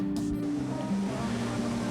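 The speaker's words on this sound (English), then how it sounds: "I've no idea what this waterfall's called." An outdoor waterfall feature in Torrevieja on a late-summer Saturday night gives a steady, rushing wash of falling water, heard from close by, with faint background hum and a brief clatter near the start.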